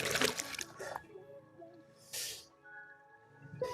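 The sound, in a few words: washing hands with water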